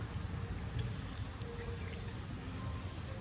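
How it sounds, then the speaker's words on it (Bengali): Steady rain falling outdoors near a garden of leafy greens growing in crates, a continuous dense hiss of drops with occasional faint patters, no talking. "আবার তো বৃষ্টি পড়া শুরু হলো"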